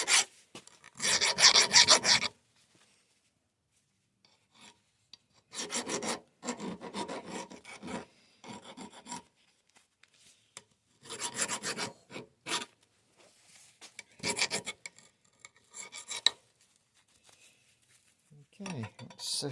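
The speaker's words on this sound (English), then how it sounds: "So a quick bit of deburring." A metal model-engineering part for a live steam locomotive being deburred with a file, heard as several separate bursts of rasping strokes with quiet pauses between them, close and fairly loud.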